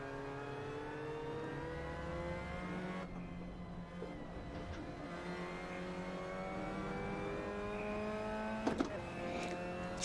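Race car engine in Assetto Corsa dropping two gears at once from third, a loud continuous harmonic whine that falls and resettles in pitch, with a couple of sharp mechanical clacks near the end.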